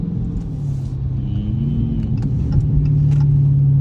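Dodge Hellcat engine rumbling deep and steady from inside the car while driving in the rain, the low drone swelling slightly as it pulls, with no talking.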